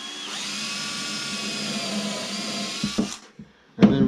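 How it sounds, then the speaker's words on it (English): A power drill with a countersink bit runs in one steady whining burst for a few seconds while pre-drilling, then stops, followed by a few clattering knocks. "we're gonna pre-drill with a little countersink bit here."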